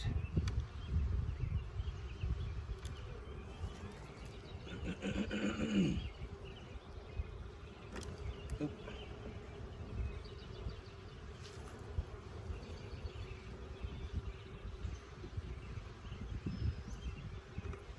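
Honeybees buzz steadily through an open hive during a full spring inspection, a dense continuous drone close by with no talk over it.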